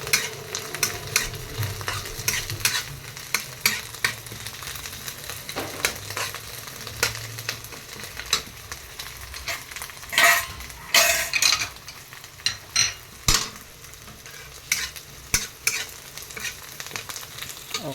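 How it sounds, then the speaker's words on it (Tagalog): Smoked fish (tinapa) toasting in a pan: steady sizzling with scraping stirs and occasional clinks of a utensil against the pan, loud and close with no talking. "Siyempre, tutusta-tustahin din uli natin. Ating tinapa."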